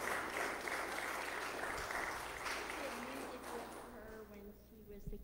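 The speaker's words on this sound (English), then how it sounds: "would you show applause for her?" A church congregation at a Saturday evening Methodist worship service applauds, a dense, steady wash of many hands clapping that thins and fades toward the end.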